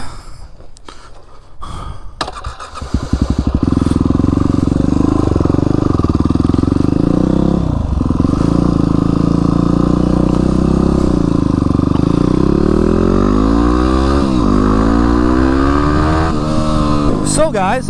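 A Yamaha WR250X motorcycle starts up after a few brief clicks and settles into a loud, steady engine drone, with rising and falling revs as it rides off close by.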